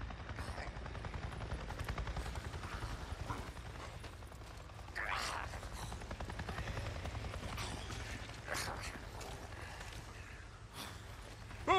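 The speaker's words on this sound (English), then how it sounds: "I just saw a goddamn chopper!" In the Days Gone video game, a helicopter passes overhead with a continuous low rotor thrum and chop, steady and fairly distant throughout, with a few brief louder swells.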